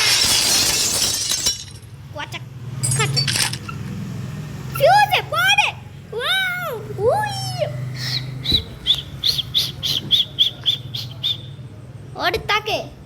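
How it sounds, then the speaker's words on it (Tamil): A loud crash of a glass window shattering in the Granny video game opens the stretch, followed by chirping bird-like calls and game noises while a person talks. "ஃபஸ்ட்டு கண்ணாடி உடச்சிருவோம்."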